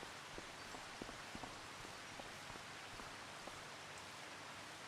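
Steady rain hisses faintly across a farm in Farming Simulator, a soft, even wash of patter with scattered light drops and occasional dull knocks.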